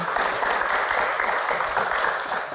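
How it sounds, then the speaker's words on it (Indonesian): Steady applause from a crowd at a Q&A event, continuous clapping that fills the whole stretch without pause. "tepuk tangan dong"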